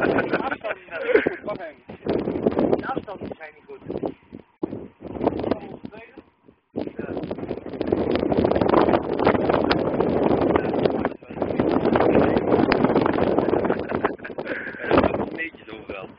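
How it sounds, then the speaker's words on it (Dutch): Strong gusts of wind buffet the microphone in heavy rumbling bursts that come and go, with people talking and laughing underneath. "Best veel wind, hè?"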